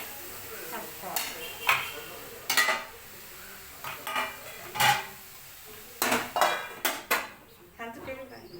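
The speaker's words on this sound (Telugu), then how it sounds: "చాలాసేపు ఇలా కలుపుకుంటూ అడుగు మాడకుండా చాలాసేపు కలుపుకోవాలి." A spoon stirs carrot and urad dal curry in a pot, making intermittent close scrapes and light metallic knocks at an uneven pace over a quiet background.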